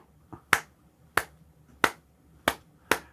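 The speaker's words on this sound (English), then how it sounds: "Let me see if I can clap it out." A single person clapping hands in a steady beat, five sharp claps about two-thirds of a second apart, close and clear, with one softer tap before the second clap, in a quiet room before playing piano.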